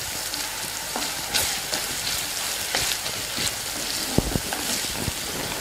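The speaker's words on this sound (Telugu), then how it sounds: "ఈ అల్లం ముద్దని బాగా వేగనిద్దాం" Ginger paste frying in a pan for a restaurant-style paneer masala: a steady, dense sizzle and crackle runs throughout, with occasional louder pops and spatters, close and alone without talk.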